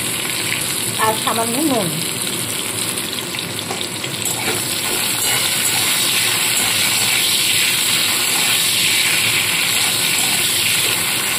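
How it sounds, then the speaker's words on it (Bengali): Drumstick (moringa) stalks fry in hot oil with a steady, continuous sizzle, with a brief clink of stirring near the start and no talk over it. "এইবারে প্রথমে আমি ডাঁটাগুলোকে ভেজে নেব।"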